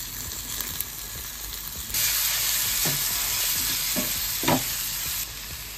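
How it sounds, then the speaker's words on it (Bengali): Ginger, garlic and tomato paste hits hot oil in a pan and sets off a loud, sudden sizzle that holds steady, while a few scraping stirs sound through it up close. "রেডি করে রাখা আদা, রসুন, টমেটো পেস্টগুলো মিশিয়ে দেবো এবার।"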